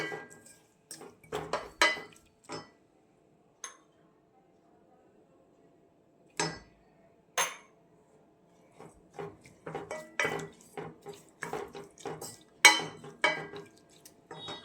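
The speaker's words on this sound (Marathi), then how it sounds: "हे सगळं छान कालवून घ्यायचं." Sattu flour drink being stirred in a vessel, with scattered clinks and taps of a spoon against the container coming in irregular bursts between quiet gaps.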